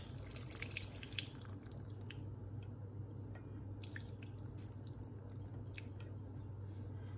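Liquid trickles and drips faintly from the spigot of a kombucha jar, a soft steady run of patters and splashes, quiet and close with no talking.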